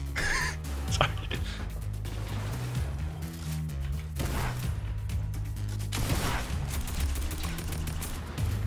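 Dense, overlapping gunfire from a new tactical assault rifle in Fortnite Battle Royale, sustained volleys and impacts over a droning game background with brief crash-like hits.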